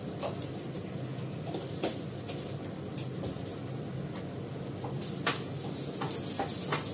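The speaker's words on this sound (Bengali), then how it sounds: "যেহেতু আমি রসুন দিয়েছি এই জন্য মেথি ফোড়ন দিচ্ছি" Fenugreek seeds sizzle in hot oil with garlic, giving a steady hiss of frying with occasional crackles and pops, heard close and continuously with no talking.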